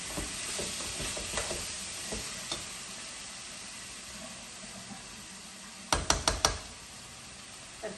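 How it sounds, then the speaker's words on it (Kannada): Vegetables frying and being stirred in a pan for a desi-style pasta, a steady low sizzle with scattered spatula knocks and a quick cluster of sharper scraping clatters near the end. "ತರಕಾರಿ ಎಲ್ಲ ಫ್ರೈ ಆಗಿದೆ ಚೆನ್ನಾಗಿ"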